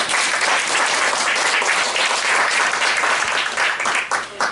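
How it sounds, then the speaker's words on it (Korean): A congregation at a workplace fellowship's founding worship service gives loud, sustained applause, a dense crowd of clapping hands that holds steady for several seconds before thinning at the end. "하나님 앞에 먼저 영광의 박수를 올려드립니다"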